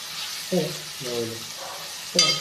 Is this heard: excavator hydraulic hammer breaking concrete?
no